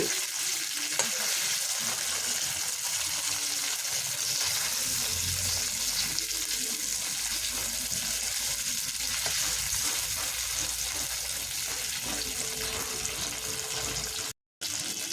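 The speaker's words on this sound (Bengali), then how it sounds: "মিনিট চার পাঁচেক সময় ধরে মাছটা হালকা করে একটু ভেজে নিয়েছি" Steady, dense sizzling of snakehead fish frying in hot mustard oil, close and continuous, with faint clinks and a brief cutout near the end.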